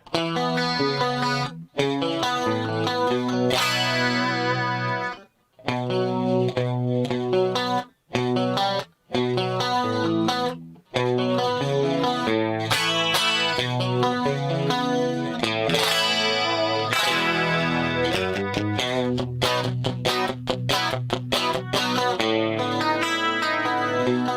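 Electric guitar with a shimmering chorus and gritty distortion, strummed chords ringing with brief gaps between phrases, loud and up close.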